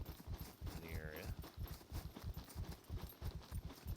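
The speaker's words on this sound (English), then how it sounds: "Horse now. Horse spawn." Horse hooves clip-clop in the survival game SCUM, a steady rhythmic run of muffled beats under a brief spoken voice.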